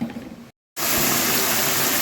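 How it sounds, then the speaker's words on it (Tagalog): Car air-conditioner evaporator plunged into a container of water for a leak test, a close, steady gushing splash that resumes loudly after a brief cut. "Lubog natin ulit sa tubig."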